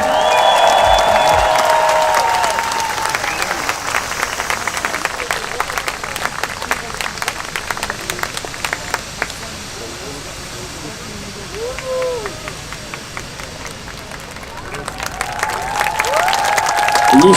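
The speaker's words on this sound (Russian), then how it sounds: "Друзья, громче аплодисменты!" A large audience at a Shamal event breaks into loud, sustained applause and cheering, a dense roar of clapping that swells, dips in the middle and builds again, with whistles and a voice rising over the crowd near the start and end.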